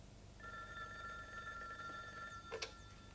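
A telephone rings in a sustained electronic trill, fairly faint, followed by a brief clatter near the end.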